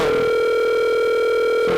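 Steady telephone tone sounding continuously, a loud sustained electronic drone with bright harmonics, alone with no talking, cutting off near the end.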